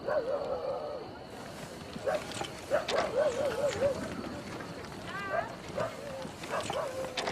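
Dogs yip and bark in short repeated bursts at moderate distance, mixed with whimpering calls and surrounding noise.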